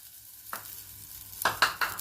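Tamarind water poured into a hot frying pan, a sharp hiss and sizzle followed by a few quick scraping stirs close by.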